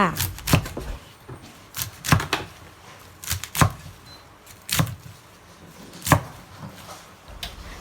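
Salted fish being chopped into chunks on a board with a knife, a series of sharp, close, irregular cuts spaced about half a second to a second apart.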